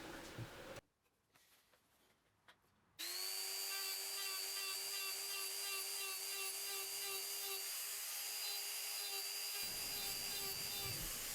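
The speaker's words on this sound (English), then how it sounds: "here I am starting the texture on the outside rim using a larger burr in a die grinder" A die grinder fitted with a larger burr texturing the outside rim of a turned wooden piece: after a few brief bursts, a loud, steady high-pitched whine runs continuously for about seven seconds, then winds down.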